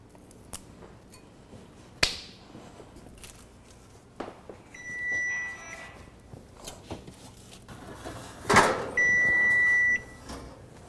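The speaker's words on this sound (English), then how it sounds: "That's my timer for the yogurt." A kitchen timer set for homemade yogurt beeps in two bursts of steady, high electronic tones, a short one midway and a longer run near the end, between scattered kitchen clatter and handling sounds.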